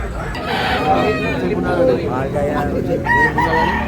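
A rooster crows loudly at a busy chicken market in Tabunok, Talisay, Cebu, with other fowl clucking and people talking nearby.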